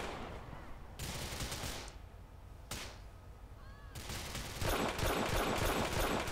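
Bursts of automatic gunfire in the GTA IV video game with a police motorcycle gendarmerie mod, loud and continuous in several sustained volleys separated by brief gaps, with no talking.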